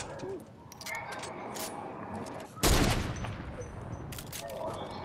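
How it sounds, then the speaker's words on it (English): A rapid burst of gunfire erupts in a Fortnite match, sharp and loud, standing out against quieter game ambience and faint background voices. "he's trying to shoot super quick"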